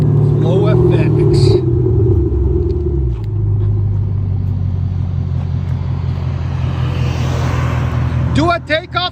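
A Chevy Camaro SS with a 6.2L V8 and a Flow FX exhaust idles with a deep, steady rumble close by, a revving swell at the start, and a brief voice near the end.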